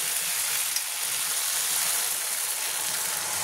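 Water poured into a pan of frying crab and potato curry sets off a loud, steady hiss and sizzle that fills the whole stretch without pause.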